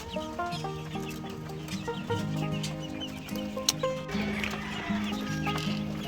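Sick, weakened chickens on a farm hit by disease deaths make overlapping soft clucks and calls, steady and close, with faint background clatter.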